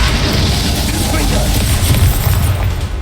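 An Expulso spell explosion in Hogwarts Legacy lands as a loud, deep, rumbling boom that fills the short moment, with combat effects and voices layered in.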